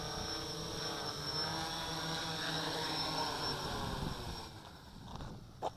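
A large XK Aircam X500 GPS quadcopter drone comes in to land, its rotors whirring in a steady, fairly faint hum that wavers in pitch and drops away near the end, followed by a brief clatter.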